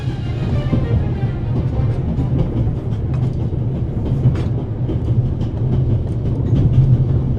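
A train runs in The Raven: Legacy of a Master Thief, giving a loud, steady low rumble with faint rhythmic clatter that carries on unbroken, with no talking.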